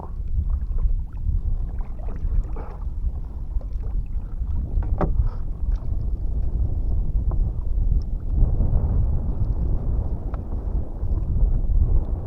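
Strong wind ahead of rain buffets and roars continuously across the microphone, a heavy low rumble with gusty surges and no talking.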